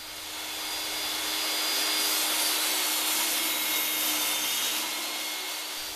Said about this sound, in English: running the 2x6 workpiece through the saw, ripping off a 3/8-inch blank